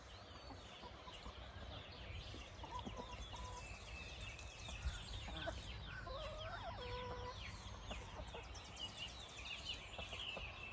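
Several chickens of three generations cluck and murmur steadily outdoors, a busy flock sound with scattered calls overlapping across the whole stretch.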